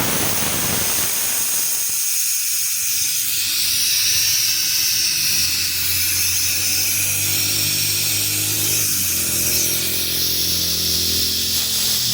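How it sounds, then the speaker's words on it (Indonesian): The air conditioning system of a Karimun Wagon car is vacuumed, producing a loud, steady hiss and mechanical drone that continues without a break, with a low hum settling in toward the end. "sekarang di sini lagi proses pemakuman"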